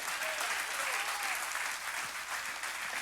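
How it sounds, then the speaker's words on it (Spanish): Congregation applauding at a church service during a sermon, a steady dense wash of clapping throughout with a faint voice underneath. "Dale ese aplauso a Dios."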